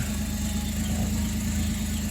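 A car engine idles with a rough, steady sputtering misfire, loud and close, a low throbbing rhythm running without pause.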